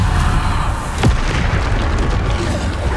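A Bombarda spell in the game Hogwarts Legacy bursts in a heavy, booming blast over a dense, rumbling roar that carries on steadily for a few seconds.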